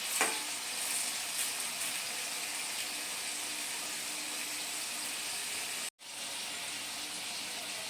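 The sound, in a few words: potatoes frying in a pan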